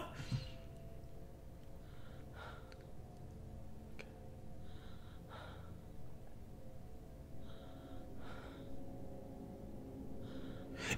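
Character breathing in the horror video game At Dead of Night: quiet, repeated gasping breaths and snorts at irregular intervals over a low, murky background hum, faint and close.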